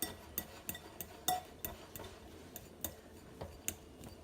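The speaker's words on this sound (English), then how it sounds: "the more I stir them, the more they're going to get mashed" A utensil quietly and steadily taps and clinks against a bowl while cooked eggs are stirred and mashed for deviled eggs with bacon. The small, rhythmic knocks repeat with no talking.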